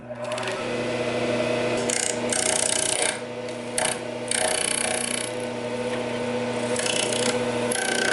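A lathe converted into a large-format sanding disk, spinning at 1800 RPM, hums steadily while the abrasive rasps and scrubs a small nib off a workpiece, with uneven surges of grinding contact.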